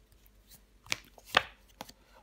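A tarot card is laid down on the table in a short session, with a few soft slaps and taps, close and quiet, over near silence.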